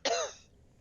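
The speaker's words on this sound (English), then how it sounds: "Sus now only speaks in coughs." A single short throat-clearing cough from a tabletop role-play player, close and fairly quiet, alone with no talk around it.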